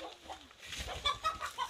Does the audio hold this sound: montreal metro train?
no